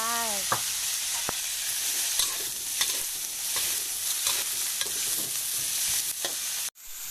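Pork and long beans stir-fried in a pan, a continuous near sizzle broken by repeated scraping and clacking strokes of the spatula, with one brief tonal beep at the start and a sudden cutoff near the end.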